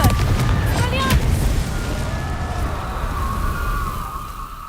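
Confringo spell blasts in Hogwarts Legacy: sharp bursts up front, then a sustained rumbling roar with a whistling tone fading out, heard alone and fairly loud.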